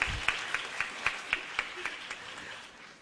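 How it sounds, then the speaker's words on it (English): A small group at a high school graduation ceremony claps in a brief burst that thins into a few scattered claps and fades out. "Or clap now."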